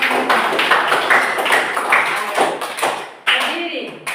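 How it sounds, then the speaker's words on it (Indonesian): A school class of seventh-graders claps together in a burst of applause, steady and close, pausing briefly before clapping starts again. "Kita tepuk tangan sekali lagi untuk kita semua."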